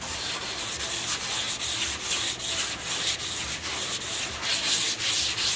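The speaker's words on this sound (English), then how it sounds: "The more you sand it, therefore, means you're getting straighter, you're getting a better finish." Steady back-and-forth rasp of a sanding block working Evercoat Optex pink polyester high-build primer on car bodywork, even rhythmic strokes about twice a second, close and continuous with no talk.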